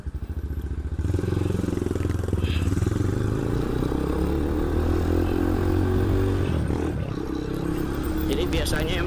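A motorcycle with a newly replaced battery starts after a brief quiet moment, then idles loudly and steadily close by, its engine rumbling with a regular throb while someone talks over it.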